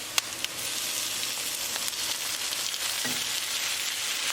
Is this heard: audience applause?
no